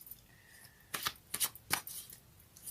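Tarot and oracle cards being shuffled, a handful of quick riffling bursts spaced across a few seconds, close and crisp against a quiet background.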